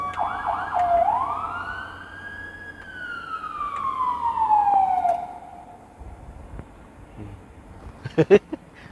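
Loud nearby ambulance siren on a donated rural-hospital vehicle sweeping through a long slow wail that rises then falls away, followed by quieter pauses and a few short sharp knocks near the end.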